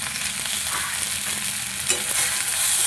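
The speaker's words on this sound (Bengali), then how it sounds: "দিয়ে একটু কষিয়ে নেব।" Green chillies with cumin and coriander powder sauté for a mixed vegetable curry, giving a loud, continuous sizzle and hiss in the pan with faint scraping of stirring throughout.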